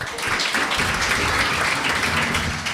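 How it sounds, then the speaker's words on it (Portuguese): A church congregation at an open-air rooftop service in Rocinha applauds the Lord, giving a dense, even wash of clapping that holds steady throughout at moderate volume, slightly distant. "Você pode aplaudir ao Senhor?"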